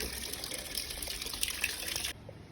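Water splashes and gushes steadily over dogs to cool them in harsh hot sun, a close continuous pour lasting about two seconds before it drops away.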